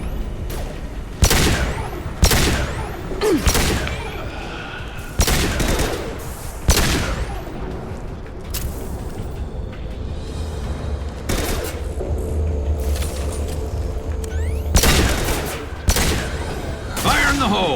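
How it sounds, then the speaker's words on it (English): Heavy high-impact gunshots in Mass Effect 2, a series of sharp, loud cracks spaced irregularly through a firefight, with battle noise and occasional speech. "Taking cover! Firing a high-impact shot."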